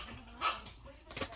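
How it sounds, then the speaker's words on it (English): Dogs bark in the background, two short muffled barks heard faintly at a distance through a room. "Those dogs are driving me nuts."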